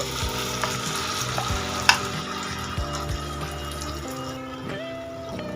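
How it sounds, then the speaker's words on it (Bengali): A potato snack mixture fries in a pan with black mustard seeds, giving a steady sizzle under repeated scraping and clanking of a spoon as it is stirred, with one sharper knock partway through. "এবার এটা তিন চার মিনিট নাড়াচাড়া করে নেব"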